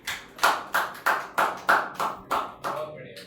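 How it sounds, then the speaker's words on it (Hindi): A small group claps for a class 10 school topper in about eight distinct, evenly spaced bursts, close and moderately loud, with faint talk underneath. "एक बार जोरदार तालियां भाई के लिए।"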